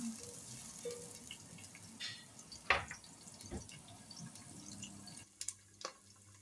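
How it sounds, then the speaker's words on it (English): Onions frying in a pan for chicken pilau rice give a faint, steady crackle, with a few soft clinks and drips scattered through it and no voices. "There I'm having my onions already on my pan."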